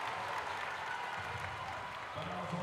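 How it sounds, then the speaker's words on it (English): A basketball crowd at a boys' district tournament game between Somerset and Rockcastle cheers and claps in a broad, sustained burst of applause that fills the gym, with voices mixed in. "And the crowd is on their feet"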